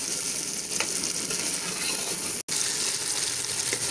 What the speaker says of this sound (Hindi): अब हमने आलू के साथ भी इसकी भुनाई कर ली है।